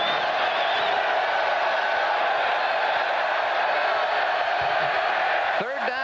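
Large football crowd at Kyle Field on a warm afternoon during a 1991 Houston vs Texas A&M game, a steady dense roar of voices and murmuring throughout, with a brief sharper rise near the end.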